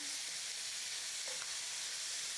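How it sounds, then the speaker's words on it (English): Onions and peppers sizzle steadily in a pot over medium heat for a Cuban one-pot chicken and rice, a continuous hiss with a faint stirring scrape near the middle. "we're gonna add in the onions and the peppers. You want to give it a good stir"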